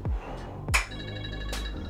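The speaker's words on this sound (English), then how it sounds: "phone's ringing" A phone ringtone sounds during a home fitness workout session: a few dull thumps, then a steady electronic ringing tone starts just under a second in and keeps going, fairly close.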